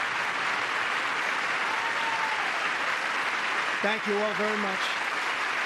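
A large audience applauds steadily at the State of the Union, a dense, continuous wash of clapping throughout, with a voice briefly heard over it.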